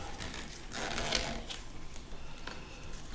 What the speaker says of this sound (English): I'll zip this up.